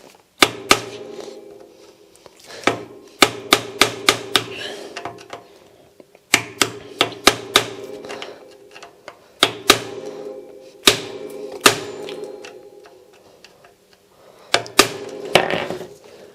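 Sharp metallic clicks and scrapes from a screwdriver struggling against a stuck screw on a bicycle, coming in irregular bursts of rapid taps separated by brief pauses, close and fairly loud.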